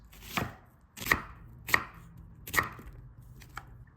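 A knife chops through an onion on a board: a handful of crisp, irregular cuts, close and moderately loud, with quiet gaps between strokes.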